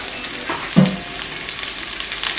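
Mushrooms sizzle and crackle in a couple of tablespoons of hot oil in a frying pan, a close, steady fry with a brief thump as they drop in and light stirring.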